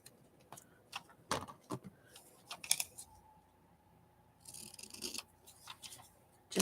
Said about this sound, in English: I'm getting getting a little more confident about cutting with the scissors.